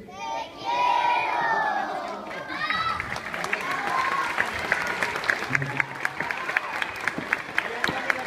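Children shout together to their teacher at an end-of-year school concert in a church, a loud group yell lasting about two seconds that gives way to steady applause and clapping from the audience.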